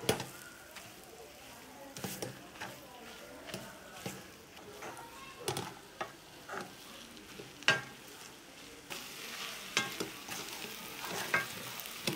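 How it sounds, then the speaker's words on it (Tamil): Grated ginger sizzles in sesame oil with mustard seeds while a spoon stirs it in the pan, giving steady frying hiss broken by repeated scraping knocks, with a voice talking over it. "இப்போ நம்ம இஞ்சி வந்து ஒரு 2 நிமிஷம் நல்லா வதங்கினா போதும்"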